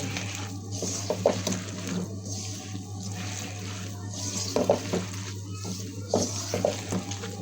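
Small fish are mixed in a pot for bhaji, making soft wet squelches and stirring scrapes in irregular bursts over a steady low background hum.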